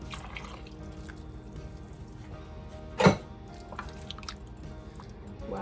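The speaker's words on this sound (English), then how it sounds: "We'll put a little water in this and rinse it out." Water swirls in an empty can of tomato sauce and is poured into a pot of chili, heard as quiet sloshing with one brief, louder splash partway through over a low kitchen hum.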